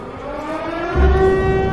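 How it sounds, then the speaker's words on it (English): A Siren Head siren wails in a horror video game, a sustained droning tone that holds steady and swells slightly louder partway through, heard alone without talk. "They got Siren Head in the game."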